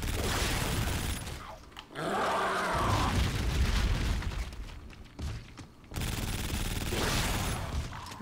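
Gunfire and impacts during a boss fight in Call of Duty Infinite Warfare Zombies, loud sustained shooting mixed with booms and clattering game effects, briefly dropping out twice before resuming.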